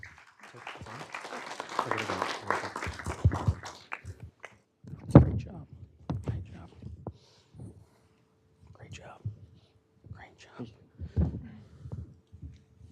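A brief burst of clapping from a small crowd at a city council meeting that fades after a few seconds, followed by quieter scattered sounds and talk.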